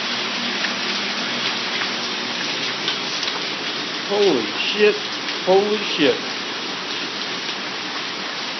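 Heavy hail clattering down in a Baltimore storm makes a loud, constant hiss of impacts nearby, while a voice exclaims twice in the middle.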